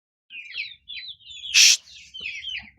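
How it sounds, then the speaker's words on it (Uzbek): Young black chicks chirp in short, high, rising peeps, several calls in a row close to the listener, with one brief sharper burst in the middle and no voices. "Mana jo'jalar."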